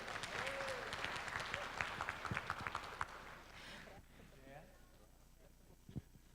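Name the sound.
audience applause for Romeu Weber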